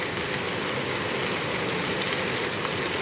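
A heavy downpour falls steadily without wind, a dense even hiss of rain drumming on surfaces outdoors in a garden, constant and fairly loud with no voices.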